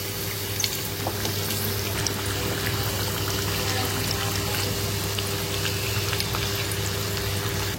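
Farm-raised fish frying in a pan of oil, a steady dense sizzle and crackle with a constant hum underneath, continuous and fairly close with no talking.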